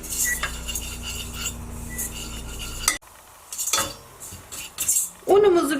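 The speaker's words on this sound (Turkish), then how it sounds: "biraz böyle karıştırarak kavurduktan sonra" Butter being sautéed in a pan for a béchamel sauce, with a utensil clinking and scraping against the pan in uneven bursts, followed by a brief pause and a faint low sizzle beneath.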